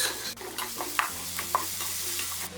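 Ginger garlic paste and three slit green chillies sautéing for an egg curry, a quiet close sizzle broken by light scraping stirs and a couple of small utensil clinks.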